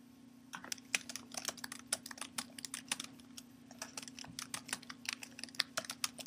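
Fast, steady clicking of keys on a computer keyboard, close and fairly quiet over a constant low electrical hum, with no voices.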